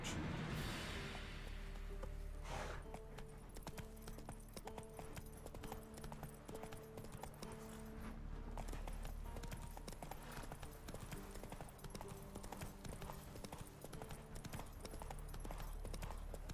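The hooves of Roach, Geralt's horse in The Witcher 3, beat out a steady, rhythmic clip-clop trot that runs throughout at moderate distance, fairly quiet beneath ambient game music.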